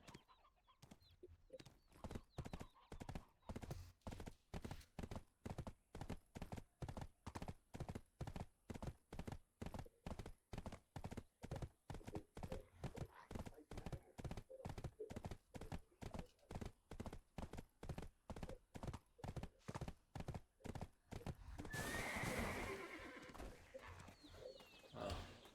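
Horse hooves in the video game Black Desert Online clop in a steady, even rhythm for about twenty seconds, crisp and close, before a brief burst of noise near the end.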